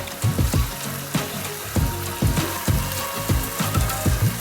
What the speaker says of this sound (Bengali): টক দইটা দিয়ে ভালো করে একটু কষিয়ে নেবেন 3 মিনিট ধরে